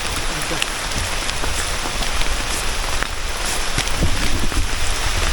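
Steady rain pattering on a mountain trail at Gunung Kembang, a dense continuous hiss with scattered nearer drop hits and a little wind buffeting, loud and close throughout.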